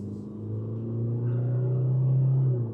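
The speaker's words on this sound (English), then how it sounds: "So, okay, gap in the traffic. I'm pulling out into an 80 zone." 2026 Toyota Hilux SR5 with a 2.8 engine pulling out into an 80 km/h zone, a low steady engine drone that rises gently in pitch as it accelerates, heard from inside the cabin.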